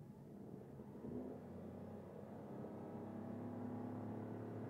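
A Toyota Aygo X hybrid accelerates from 20 to 70 km/h, its engine building to a steady, rising hum with road rumble heard from inside the cabin, moderately loud and unbroken.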